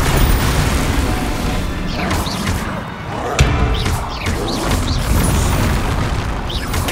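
Spell impacts from Bombarda and Glacius in the video game Hogwarts Legacy, with dense, loud booms and crashes over sustained rumbling battle noise and a sharp thud near the middle.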